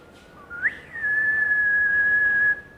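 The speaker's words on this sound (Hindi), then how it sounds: "जैसे कि भिसिल बजाते थे ना जी" A person whistles through rounded lips: a short rising chirp, then one steady, clear note held for about a second and a half before it stops. The whistle is close and alone, with no talking.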